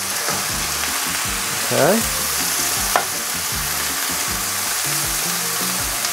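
Peppers and onions hitting a very hot pan for Szechuan beef give a loud, continuous sizzle, with a brief scraping toss midway and a short spoken word over the frying.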